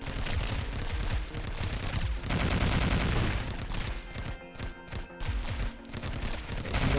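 Uzi fire rattles in Girls' Frontline as rapid, loud bursts over game noise and effects. It thins in the second half into sharper, separated shots with brief gaps.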